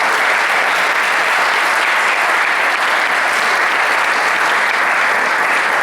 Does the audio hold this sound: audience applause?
yes